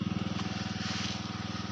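Engine-driven water pump drawing river water to irrigate a mustard field, a steady, fast-pulsing motor chug that runs unbroken, close and fairly loud.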